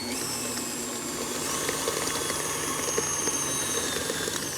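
A stand mixer fitted with the paddle attachment beats buttercream frosting: a steady motor whine and hum with faint rhythmic churning, close and continuous, no speech.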